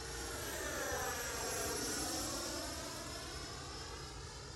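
An RC sport jet flies over the field with its motor spooling up under added power, a continuous loud whooshing whine that swells and then eases slightly as it passes.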